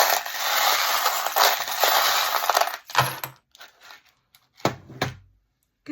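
Small metal charms jingle and clatter as they are handled, a dense rustling jangle for three seconds, then a few separate light drops and clinks with quiet gaps between them.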